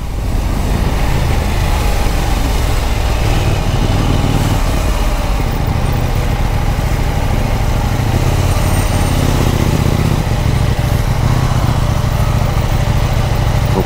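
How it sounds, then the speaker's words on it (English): A KTM Duke 790 parallel-twin motorcycle's exhaust note while riding through Manila, a steady, loud engine drone that stays close and continuous throughout with no talking. "But as a result of it being a parallel twin, the exhaust just has this amazing feedback."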